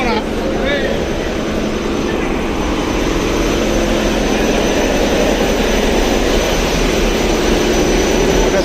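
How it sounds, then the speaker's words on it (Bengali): Loud, constant engine roar with a deep rumble filling the engine room of the Manik 11 passenger river launch, steady throughout, like heavy machinery running nearby. "আর পিছনে রয়েছে ইঞ্জিন রুম মানিক এগারো লঞ্চের"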